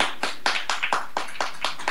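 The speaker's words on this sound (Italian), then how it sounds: "è partito l'applauso dalla cassa di Paolo" Applause played back through a loudspeaker at an Italian anti-mafia broadcast from a bar, a steady burst of clapping with a rhythmic, slightly pulsing texture, moderately loud and with no talk over it.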